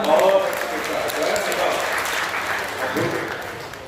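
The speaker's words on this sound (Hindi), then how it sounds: "आप एक बार तालियां हो जाए" A crowd at a Hindi poetry recital (kavi sammelan) in Sitapur breaks into loud, sustained applause lasting several seconds, with some voices mixed into the clapping.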